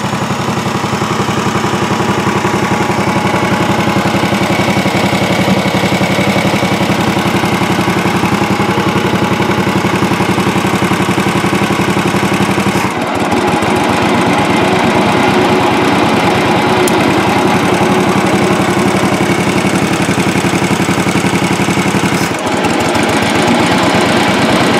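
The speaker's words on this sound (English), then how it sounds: "I'm gonna engage the blades at total idle. The throttle's all the way down." A Snapper 48 riding lawn mower idles at low throttle with its blades engaged, a steady loud droning engine hum with a whirring blade layer that holds constant throughout, with no voices.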